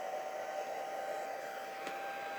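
Steady whooshing air, like a hair dryer on a low setting, blowing alcohol ink across vellum, a continuous close hiss with a faint tonal whine throughout.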